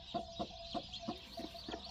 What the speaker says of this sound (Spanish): cuando la hemos destapado ya empezó ella co-co-co